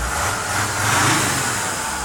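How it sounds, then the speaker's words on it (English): A Mercedes ML270 diesel engine revs up from idle, a steady mid-pitched drone that swells in the middle and settles back, heard close with no voices. "Engine revs up nicely."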